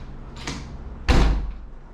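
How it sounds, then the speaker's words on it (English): An apartment door in Mozambique is pushed shut: a soft bump comes first, then a firm, heavy slam that thuds close by and rings briefly before fading. "Hold on, I'm trying to close the door"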